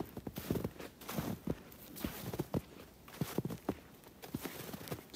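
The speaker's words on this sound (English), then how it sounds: "you can probably hear my footsteps a little bit. It's got a little bit of a crunch to it from the stickiness" Footsteps crunch through half a foot of sticky snow in a sheltered stretch of Maine woods, a steady walking rhythm of close, distinct crunches with no voice.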